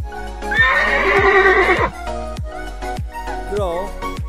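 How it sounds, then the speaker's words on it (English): Horse neighing loudly and close, a shrill whinny with a shaky vibrato lasting over a second, followed by snorts and a shorter whinny, with rhythmic hoof thumps throughout. "horse."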